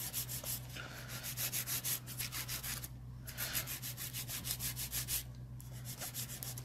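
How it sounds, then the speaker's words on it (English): A 100 grit file rasps rapidly back and forth across an acrylic nail, close and steady rhythmic scratching strokes with two brief pauses, over a low background hum. "So take your 100 grit file and get that smile line snatched."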